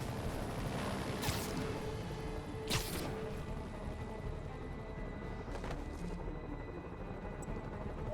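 Helicopters in Marvel's Spider-Man Remastered game: a continuous faint rotor and engine hum fills the scene, with a few sharp whooshing swings and impacts cutting through the steady drone.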